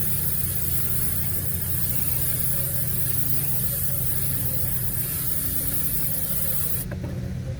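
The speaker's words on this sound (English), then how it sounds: "just take some brake cleaner one more time and then just clean the whole area" Brake cleaner sprays in a continuous loud hiss around a brake caliper area on a 2007–2016 Buick Enclave, steady and close for several seconds before cutting off abruptly near the end.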